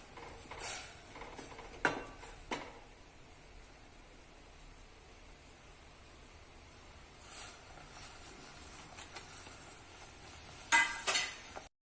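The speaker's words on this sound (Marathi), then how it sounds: "थोडं थोडं घालून ढवळत राहायचं" Flour stirred into hot water for ukad dough in a pot over a low flame: soft, steady scraping and swishing runs quietly throughout, with a few sharper knocks of the spoon against the vessel near the start and end.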